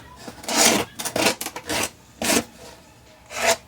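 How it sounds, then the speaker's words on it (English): A small hand sander smooths little leftover pieces off a craft gift-packaging project in short, close, rasping passes of roughly half a second each, separated by brief pauses. "instead of using this to get it off, I like to use my sander"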